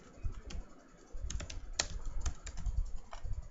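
Code being typed on a computer keyboard while writing a PHP string function: quick irregular key clicks and taps, close and moderately loud, in short bursts with brief pauses.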